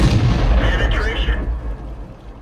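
Jagdtiger tank gun firing in World of Tanks: one heavy, booming cannon shot with a deep rumbling tail that fades within a couple of seconds.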